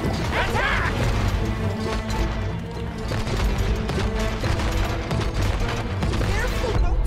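Dense, continuous game action from It Takes Two with repeated booming cannon blasts and crashes, loud and busy throughout, with speech-like voices mixed into the din.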